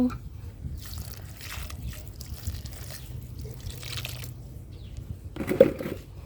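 Water is poured onto soil to water a potted plant, a steady low trickle running throughout before a brief louder splash near the end.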